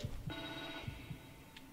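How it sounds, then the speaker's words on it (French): Walkie-talkie ringing in the video game The Evil Within 2, a steady electronic ringing tone with pulsing beats over quiet game ambience, moderately faint. "Oh, c'est un talkie walkie."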